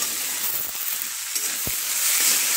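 Eggplant pieces fry in a pan with a steady, close hiss of oil and a soft knock of stirring partway through, with no voices.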